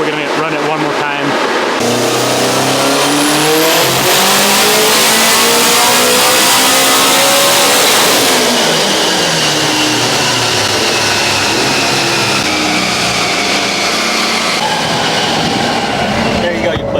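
A Honda Civic Type R on a street run revs hard and loud, its engine note climbing through rising pulls with gear changes. Loud wind and road roar run underneath, and voices can be heard over it.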